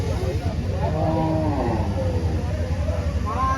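Cattle lowing at a crowded cattle market, a long drawn-out moo standing out over steady crowd chatter and background noise, with a second call starting near the end.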